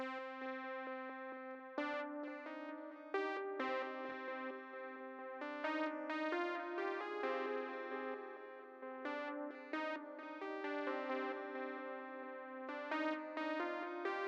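A simple synthesizer melody plays alone in FL Studio, bright plucked notes stepping through a repeating pattern at moderate volume.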